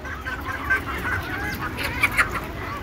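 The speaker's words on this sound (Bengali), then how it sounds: "দেশি মুরগি।" Desi chickens peck at chopped cabbage leaves, giving a few soft, short clucks, with a couple of brighter calls near the end over a low, steady outdoor background.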